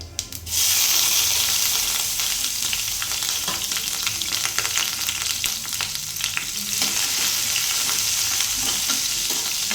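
Cumin seeds and onions frying in hot oil in a pan for a restaurant-style paneer curry, a loud, steady sizzle that holds throughout with occasional stirring scrapes and no talk.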